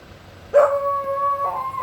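Dog at home at night giving a single drawn-out whining bark or howl that starts abruptly and holds a steady tone for over a second, close and fairly loud against a quiet background.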